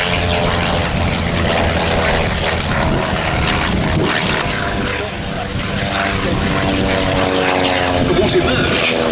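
A propeller-driven triplane flies past at an open-air display at Shuttleworth, its engine a loud, continuous buzzing drone close by that holds steady throughout.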